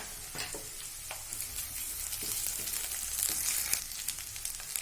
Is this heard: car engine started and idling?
no